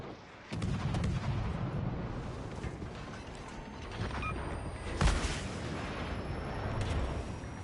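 Missile strike explosions in the naval combat game World of Warships Legends: a continuous heavy rumble of blasts and booms, with a sharp, louder impact standing out partway through.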